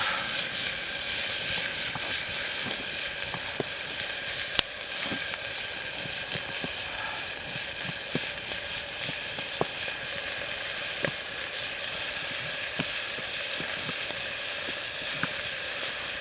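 Food browns in a camp pot on a steady, close sizzle that hisses and crackles continuously, with occasional small pops and no voices.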